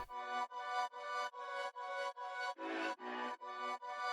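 A chopped, rhythmic UK drill synth melody processed with the Effectrix plugin pulses in even stuttering bursts, about nine gated hits with brief gaps between them, sounding heavily processed.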